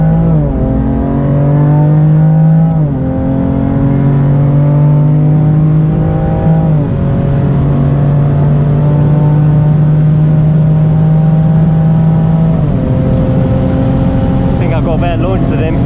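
Mosselman hybrid turbo BMW F80 M3 accelerating hard, a loud, close engine roar climbing in pitch through several gear changes, with a brief stutter near the end as it nears the limiter.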